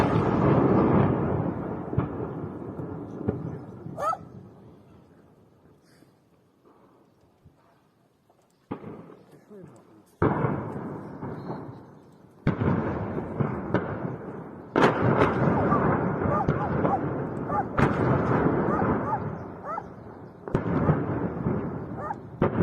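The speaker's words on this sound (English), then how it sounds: "it's wonderful to hear the Russian ammo cooking off in Polokhy" A Russian ammunition depot cooking off in Polokhy, with repeated heavy booms and sharp blasts rolling on after one another, loud and rumbling, dropping away to a quieter lull midway before the explosions surge again.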